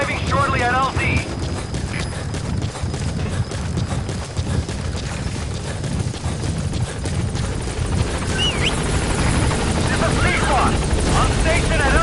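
Helicopter rotor chop from the Metal Gear Solid V video game as the aircraft arrives at a landing zone, a loud steady thrum filling the clip with game music and effects layered over it.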